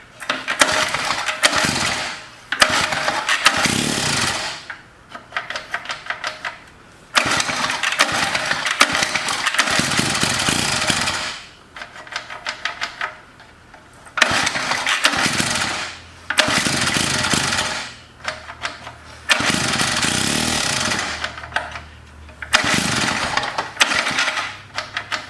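Antique Lawnboy edger's small gasoline engine firing up and running in rough bursts, loud and close, cutting out and restarting several times with brief pauses between runs.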